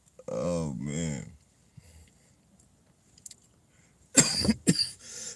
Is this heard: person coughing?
yes